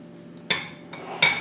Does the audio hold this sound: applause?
no